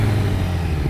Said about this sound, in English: I absolutely love the sound of this bike now